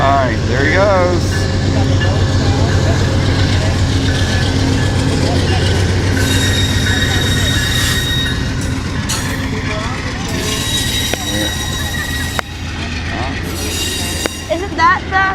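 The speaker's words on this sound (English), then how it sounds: "Isn't that the anniversary train?" A train rolls slowly through downtown Raleigh, its wagons rumbling past up close with squealing wheels and rail clatter, loud throughout, while people talk nearby.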